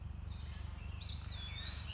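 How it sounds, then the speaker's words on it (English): Birds chirp and whistle softly in the background of a film scene set up north, thin calls rising and sliding in the second half over a steady low rumble. "starting right off, you can hear some of the bird noises in the background"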